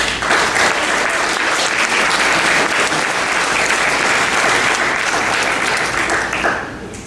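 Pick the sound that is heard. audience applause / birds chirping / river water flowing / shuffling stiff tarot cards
audience applause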